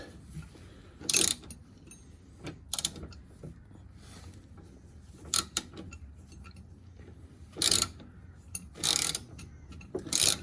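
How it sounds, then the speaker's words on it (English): A wrench works on a Porsche 986 Boxster sway bar link, giving a handful of short, sharp metallic ratcheting clicks in separate bursts against a quiet garage background. "gotta get that wrench back on there because that's spinning"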